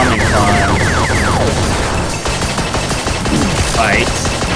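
Nuclear bombing attack in the Undertale final boss fight: dense, loud, rapid-fire blasts and crashing bursts layered with sweeping synthetic tones, continuous and relentless throughout.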